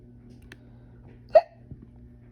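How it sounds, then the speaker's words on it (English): A single short hiccup pops out during a quiet lecture on brain anatomy, faint against a low steady hum. "Sorry, one little hiccup."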